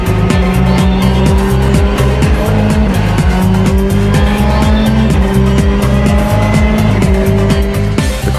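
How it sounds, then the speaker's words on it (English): Volkswagen Polo R WRC rally car engine at full power on dry ground, roaring loud and close with rising revs, repeated sharp gear shifts and a continuous harsh exhaust note throughout. "Since the ground is dry today, we can use full engine power."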